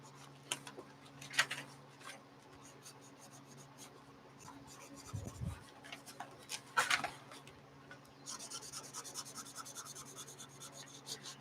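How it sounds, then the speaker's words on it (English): A cheap two-dollar Pen Plus Gear chisel tip marker scratches and rubs across paper in short, quiet strokes. The drawing comes in faint bursts separated by pauses, with a soft background hum and no talking. "this is a chisel tip marker, a cheap one"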